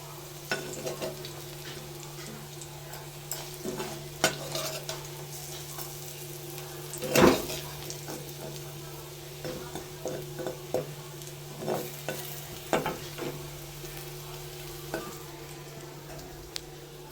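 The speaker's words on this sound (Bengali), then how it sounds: "এখন বড়াটা একটু ভাজবো" Matar dal vada fritters fry in hot oil with a steady sizzle, punctuated by scrapes and clinks from stirring in the pan, including one louder knock; no voices.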